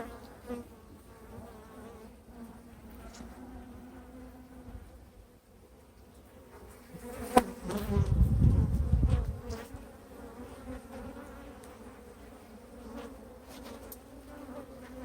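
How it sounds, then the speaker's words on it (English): Honeybees in an open hive, a dense low hum running throughout and swelling sharply loud and close for a couple of seconds midway, as if the swarm rises right by the ear, then settling back to a steady drone. "There's a lot of bees in here."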